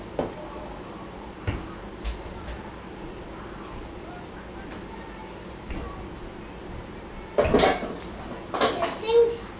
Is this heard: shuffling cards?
no